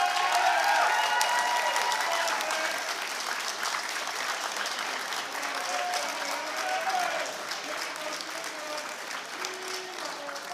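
Graduates at a graduation ceremony give a long, steady round of applause filling a large hall, dense clapping holding at an even level for the whole stretch with faint crowd murmur beneath.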